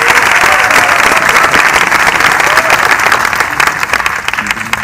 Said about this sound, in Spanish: Más aplausos para Sam.